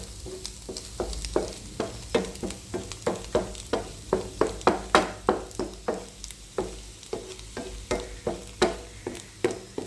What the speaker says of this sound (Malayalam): കുരുമുളക് പൊടി ഇട്ടതിന് ശേഷം നന്നായി ഇളക്കി യോജിപ്പിക്കുക